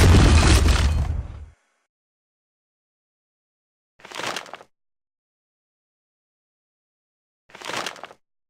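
Video game turret destruction effect: one loud explosive burst at the start that decays over about a second and a half, then two short, fainter bursts separated by silence, with no talk.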